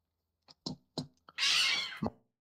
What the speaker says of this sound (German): Die eine Katze hat gerade die andere erschreckt.